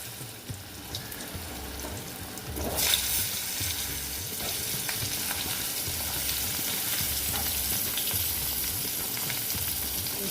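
Thick-cut potato pieces dropped into hot oil with cumin for a rohu fish curry, bursting into a loud, steady sizzle that holds on with no voices over it.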